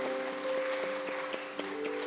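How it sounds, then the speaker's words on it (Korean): Light, scattered clapping from a church congregation after a Sunday service prayer, soft and somewhat distant, with a sustained organ or keyboard tone beneath it. "큰 박수 한번 주십시오."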